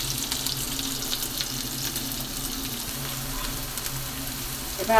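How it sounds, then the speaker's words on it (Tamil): Onions sizzling and crackling steadily in hot oil and ghee in a pan, a continuous hissing fry at moderate volume with no talking. "வெங்காயம் நறுக்கி வச்சுருக்கேன் அதை போட்டு வதக்கிடுவோம்"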